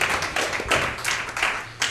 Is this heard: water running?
no